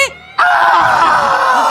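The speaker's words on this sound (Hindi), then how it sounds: "वो दर्द के मारे इतना चीखते" After a brief quieter moment, a loud, sustained scream bursts in and holds steady, sounding like someone crying out in pain, close and intense.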